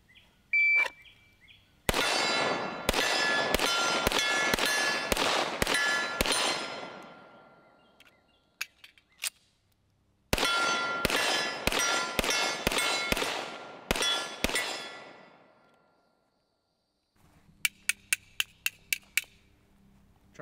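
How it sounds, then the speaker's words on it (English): Rapid strings of .45 pistol shots from a Rock Island 1911 fired at steel targets, loud sharp reports in two bursts with ringing pings, followed by a few fainter spaced metallic clangs; no talking. "I'm going to keep on shooting. Keep on shooting."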